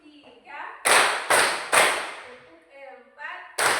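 Sharp hand claps in a counting rhythm game during a class lesson: three quick claps close together, then a fourth after a pause, with a voice speaking between them.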